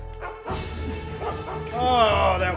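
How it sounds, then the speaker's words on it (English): Dog barking and yipping in the stealth video game Mark of the Ninja, several close barks and whimpers over steady game sound, with a player's voice talking over it. "Oh, that was a fucking dog."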